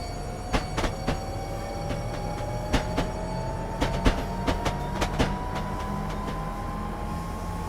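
A train coasts near 40 mph in Train Simulator 2015 on the Faversham to St Pancras route, giving a steady rolling rumble with a faint rising whine and irregular rhythmic wheel clicks over rail joints.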